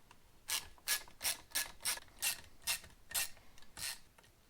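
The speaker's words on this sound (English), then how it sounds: "Alright, 8mm socket." A socket ratchet clicks in a steady series of about a dozen crisp, close ratcheting bursts while loosening the carburetor nuts on a Stihl FS131R weed trimmer, with no talking.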